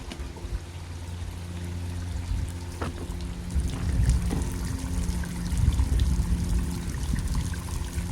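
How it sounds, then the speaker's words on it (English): Water drains from the water tank of a Vactron vac trailer in a steady close trickle and pour that swells slightly toward the end, with a low rumble underneath and no talking. "We'll drain the water tank."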